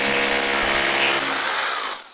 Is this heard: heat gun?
yes